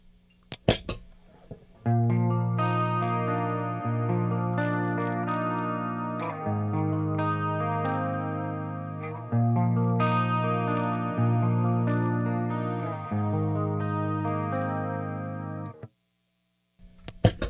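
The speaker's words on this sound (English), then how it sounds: "Put a little chorus on that." An electric guitar runs through the clean channel of an EVH 5150 III 50-watt head with chorus added, shimmering sustained chords changing at a relaxed pace, with brief clicks and handling noise at the start and end.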